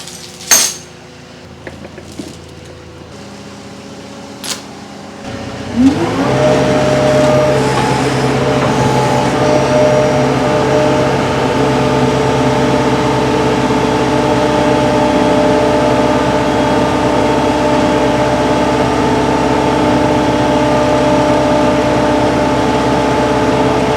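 A car engine turns over after a few clinks and clatters, then revs and runs at a sustained, loud idle-to-drone as the driver tries to pull out of moist ground on a busted-open tire.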